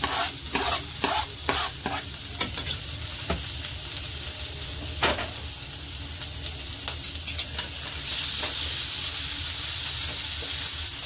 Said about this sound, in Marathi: आपण टाकूया आता लसूण, अद्रक, कांदा आणि हिरवी मिरची।